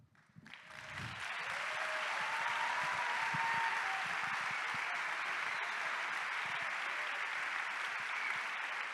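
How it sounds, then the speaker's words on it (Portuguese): Sustained audience applause at a Portuguese talk event, swelling in after a quiet first second and holding steady and dense for the rest, broad and room-filling with no voices on top. "Estes aplausos são muito, muito, muito merecidos."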